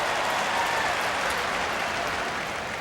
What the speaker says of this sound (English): Crowd is energized today early on the first pitch